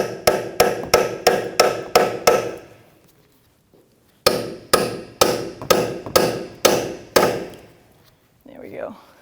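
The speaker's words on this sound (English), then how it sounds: "So with like a cold chisel, I'm just going to see if I can separate the ear of this." Hammer strikes on a cold chisel against a front dust shield on a 2007-2017 Jeep Patriot 2.4L, two sharp metallic runs of about seven evenly spaced blows each, separated by a quiet gap.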